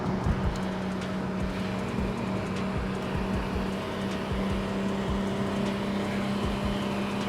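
A BMW E46 pulling hard in sport mode, heard from inside as a steady droning engine hum with road rumble and a few knocks, continuous and moderately loud with no speech.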